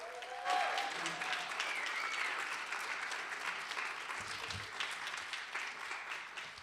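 Audience applause at a live online poetry jam, a steady crowd of clapping that holds loud and even from start to finish while the next poet is called to the stage.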